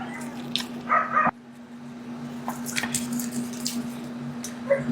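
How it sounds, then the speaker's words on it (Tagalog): Dogs yelp and whimper at close range in short, uneven bursts over a steady low hum, with small squishy handling noises in between. "pasensya na sa mga aso guys na naririnig niyo yung mga asong ingay"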